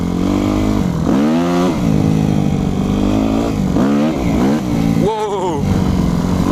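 Yamaha YZF 250 motorcycle engine revving loudly and up close as the clutch is dumped for wheelie attempts, with several rising and falling rev sweeps over a continuous engine drone.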